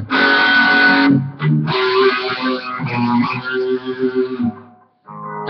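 A distorted electric guitar plays a riff at normal tempo, loud and close, with sustained chords and a brief gap near the end.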